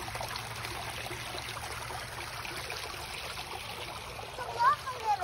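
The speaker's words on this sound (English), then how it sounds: "I love river water sounds." Steady broadband rush of a flowing river, continuous and fairly close, with a few brief splashes near the end and faint voices in the background.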